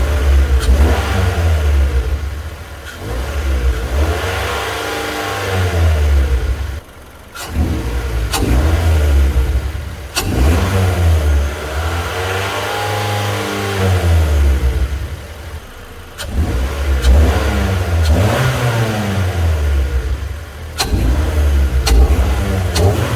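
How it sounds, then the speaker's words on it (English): NFR Forte scooter engine fitted with an open pod air filter, revved repeatedly in loud close bursts that rise and fall with strong intake suction, separated by brief dips toward idle. "it's because of the suction sound when you are flooring your gas pedal"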